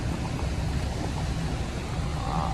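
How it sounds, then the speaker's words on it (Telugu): Sea waves wash steadily onto the shore under rain and a rising storm, near a port, as a continuous broadband surf roar with low rumble and no distinct breaks, loud and close. "ఆ సౌండ్, ఈ అలలు చూడండి"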